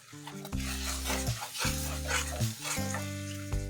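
Ground spices, including turmeric, cumin, coriander and chili powder with sugar and salt, are sautéed and stirred in a pan for potoler dolma. A crackly sizzle mixes with scraping strokes against a steady tonal background hum.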